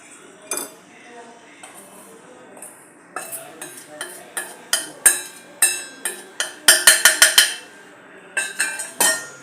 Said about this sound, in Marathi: आता आपण हे ड्राय इंट्रेडियंट्स याच्यामध्ये घालून घ्या थोडे थोडे घालून आपल्याला मिक्स करायचे आहे अशा प्रकारे मी मिक्स करत आहे